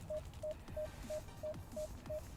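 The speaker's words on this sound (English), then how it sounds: "Hear it beeping at us? It means we're too close." Seven short, evenly spaced electronic beeps from a Dodge RAM's backup parking sensor repeat at a quick steady rhythm over faint background noise, warning the truck is too close behind.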